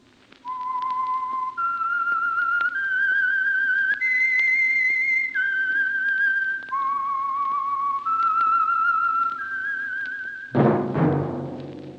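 Whistled theme tune of the radio mystery show The Whistler, a lone, clear melody of sustained notes stepping up and down for about ten seconds, then cut off by a sudden loud burst of music.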